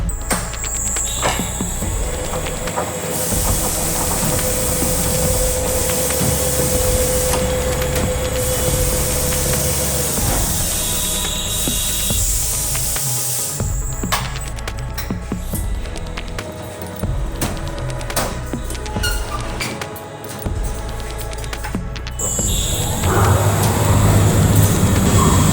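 A Schlebach QUADRO KS sheet metal profiling machine running in automatic mode, a loud continuous mechanical rumble with shifting whines, clanks and hissing bursts as its cycle steps through stages.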